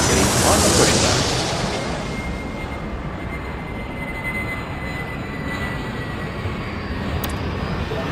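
Jet airliner taking off in the Airport Madness airport game: a broad roaring rush that swells loud at the start, then holds steady as the engine noise fades slightly.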